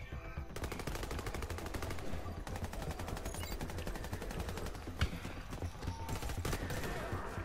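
Rapid automatic gunfire from the video game Warface, dense bursts of shots repeating in fast rhythmic volleys almost without pause, loud and close.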